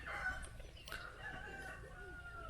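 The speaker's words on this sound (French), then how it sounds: "Et je sais pas si on entend les coqs là aussi" Roosters crow faintly in the distance during a night in the mountains, drawn-out calls overlapping against a low steady background.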